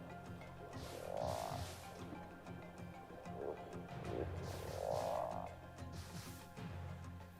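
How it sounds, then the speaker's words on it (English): Angry frogs croak in the Ark game's Sunken World mod, with two rough, rasping bursts a few seconds apart over quiet background ambience. "More angry frogs."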